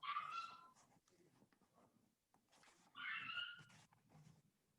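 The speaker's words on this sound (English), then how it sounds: "Hopefully my dog barking in the background's not bothering you too much." A dog indoors gives two short bursts of high, yelping barks with quiet stretches between, faint and somewhat distant, as if from another room.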